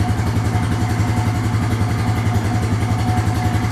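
Engine of a 2004 Honda 350 TRX ATV running at a steady idle, loud and close, with a fast even chugging pulse and no talking over it.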